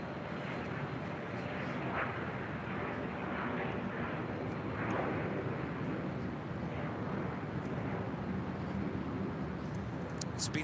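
A Southwest Boeing 737-800 airliner taxis at LAX toward runway 24 Left, a steady broadband jet engine roar holding at constant loudness throughout with faint airport noise in the background.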